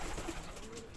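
Pigeons coo at a home in Bangladesh: a soft, low, rounded coo, faint and brief against quiet background noise.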